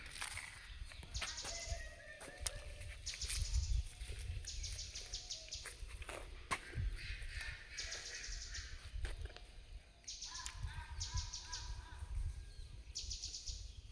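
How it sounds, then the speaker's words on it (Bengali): Several kinds of birds sing at dusk in a quiet, peaceful area around a war cemetery, giving repeated bright chirps and short trills near and far, with soft footsteps and scattered thuds underneath. "কত রকমের পাখির আওয়াজ"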